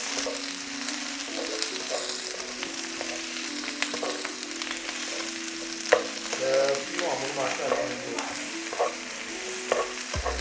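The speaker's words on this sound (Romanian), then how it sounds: "Călim ceapa puțin, apoi băgăm și ardeiul capia." Onion and capia bell pepper sauté in a pan after eggs, with a continuous close sizzle and frying hiss and occasional stirring scrapes and clacks.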